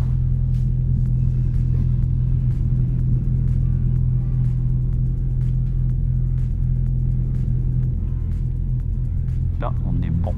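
A small aircraft's engine drones loud and steady as it rolls for takeoff on runway 25 in calm wind in Switzerland, a continuous rumble lasting throughout with faint radio voices over it.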